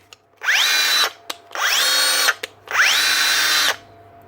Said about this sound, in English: Bosch with the wee mini SDS drill.